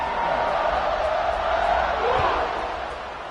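A stadium crowd at a USC versus Clemson college football game roars steadily before a kickoff, a dense sustained wall of cheering that fades slightly near the end, with a voice underneath.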